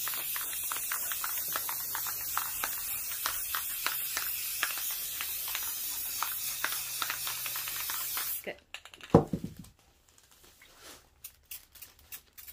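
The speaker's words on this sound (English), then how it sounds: "So just do the same thing where you just spray it and then go with the alcohol." A can of Rustoleum glossy 2X spray paint hisses in one long, steady burst for about eight seconds before cutting off, followed by a few faint knocks and quiet handling sounds.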